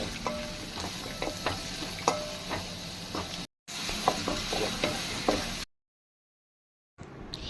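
Steady sizzling of chopped onions, green chillies and garlic frying in a hot pan for fish curry, with scraping spoon strokes as they're stirred, broken by a brief gap and a longer silence.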